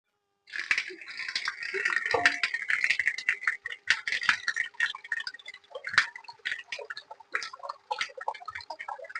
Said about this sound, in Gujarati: તો હવે આપણે તપેલાની અંદર પાણી ભરી દઈએ।